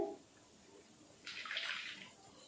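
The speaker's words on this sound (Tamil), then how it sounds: "லைட்டாக தண்ணி விட்டுட்டு" Water poured in a brief splashing burst into finely ground paste while cooking, a soft close pour lasting under a second amid quiet kitchen background.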